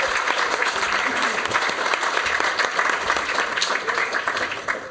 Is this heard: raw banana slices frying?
no